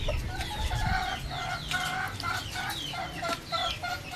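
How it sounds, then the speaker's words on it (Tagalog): Backyard chickens (game fowl) clucking in a rapid, repeated series, close and fairly loud, with no talking over them. "Magaganda ng manok niya, oh."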